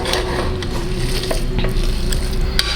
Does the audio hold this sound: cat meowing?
no